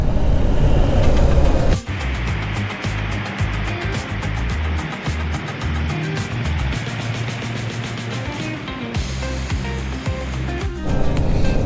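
A car drives along the road beside the Kali river on the India–Nepal border, with a steady loud roar of engine, tyres and wind rushing past throughout and no pauses.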